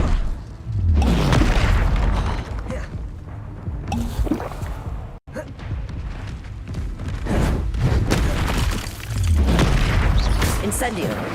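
Confringo blasting spell exploding in the Hogwarts Legacy game, repeated deep booming blasts and rumbling impacts in loud bursts, with voices calling out over the combat.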